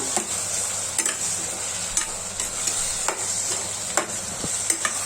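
Onion, tomato and potato cook for khichdi, giving a soft steady sizzle broken by regular sharp ticks of a spoon striking the pan while stirring, close by and without talking.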